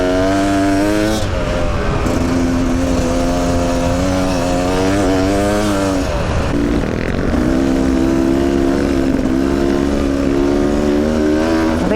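Lightweight two-stroke enduro motorcycle ridden through desert sand, its engine loud and close throughout, revving with rising and falling pitch as the rider shifts and throttles, with a brief dip in the middle before pulling hard again.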